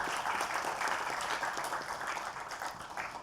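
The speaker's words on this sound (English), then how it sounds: "Please give them all a very big round of applause." An audience at a medical centre opening ceremony in Fiji claps for the guests, dense steady applause from many hands, loud and close, tapering off slightly toward the end.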